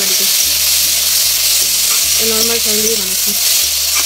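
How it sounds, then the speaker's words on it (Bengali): Chopped onions frying in a pan, with a steady loud sizzle throughout and rhythmic stirring scrapes underneath, while someone speaks briefly over the cooking. "পেঁয়াজ কুচি ভাজা ভাজা হলে বেরোবো"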